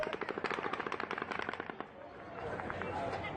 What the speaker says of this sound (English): By now, Paddock is no longer firing in long, steady bursts.